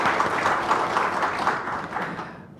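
Dense, sustained applause from a large audience at a Korean architecture forum welcoming a guest, loud and even before fading toward the end.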